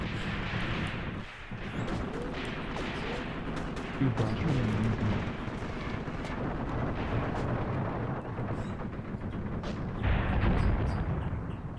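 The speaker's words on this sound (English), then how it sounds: "Just continuous hits with grenades." Continuous grenade hits pounding an abandoned military vehicle during a border-war firefight, a dense, loud, sustained rumble of blasts and gunfire with few gaps between impacts.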